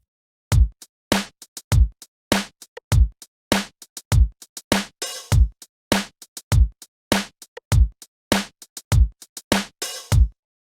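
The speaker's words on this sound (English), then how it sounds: "we used MIDI to sequence a drum pattern" MIDI-sequenced drum pattern played back in Pro Tools, a steady loop of punchy kick and snare hits with crisp hi-hats, loud and even with no voices.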